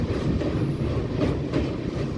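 Amarkantak Express sleeper train running downhill on the ghat section between Narmadapuram and Abdullaganj, heard as a steady rumbling roll with rhythmic wheel clatter and a faint thin squeal, close and continuous.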